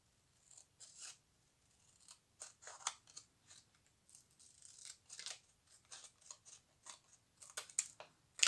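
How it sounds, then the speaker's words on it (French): Scissors snip through paper during a scrapbooking pouch craft, with a steady run of short, crisp cuts close up and no talking. "Moi j'ai fait un trait pour pouvoir couper et tout simplement on coupe."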